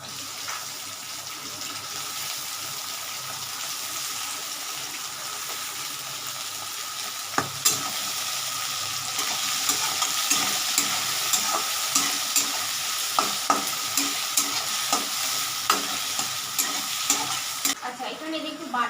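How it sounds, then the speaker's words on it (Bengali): Onion frying with potatoes, a bay leaf and a dried chilli in hot oil, giving a steady bright sizzle throughout with scattered clicks of a stirring spoon, close and continuous, with no voices. "আলু ভাজার সাথে সাথে আমি একটু পেঁয়াজটা দিয়ে দিচ্ছি"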